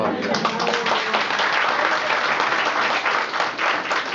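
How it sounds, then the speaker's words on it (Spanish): An audience at a preschool play gives young actors sustained, dense applause, with even clapping filling the whole stretch at a moderate distance. "Les damos otro aplauso muy fuerte a nuestros jóvenes actores."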